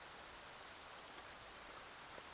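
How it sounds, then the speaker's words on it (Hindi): Rain falling in a forest beside a mountain road makes a faint, steady hiss of fine drops, soft and even with no voices. "बारिश हो रही है"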